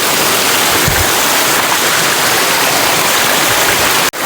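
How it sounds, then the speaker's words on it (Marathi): Water rushing down the stone steps of Korigad fort, a loud, dense, continuous roar with no pauses, close by, briefly cut at the end. "पायऱ्यांवरून वाहणारं पाणी"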